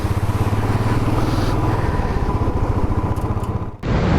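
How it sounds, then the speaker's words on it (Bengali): A motorcycle engine runs close by with a steady, throbbing rumble at a mountain water crossing on the Adi Kailash route, briefly cutting out near the end before picking up again. "আর আমি বাইক দাঁড় করে দিচ্ছি এই জায়গায়"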